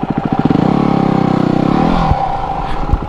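A tall trials motorcycle on an off-road trail revs hard, its loud, close single-cylinder putter climbing into a sustained rapid drone before dropping off to a lumpy idle with a few clanks.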